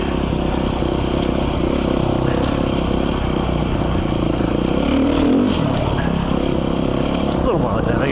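Dirt motorcycle ridden off-road between Red Rock and Last Chance Canyon, its engine droning steadily close by with a brief rise as a wheelie is attempted, layered under continuous wind and rumbling.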